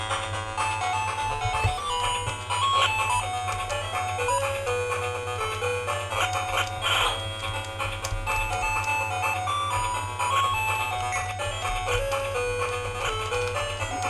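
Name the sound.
video game audio playing on repaired retro Sega handheld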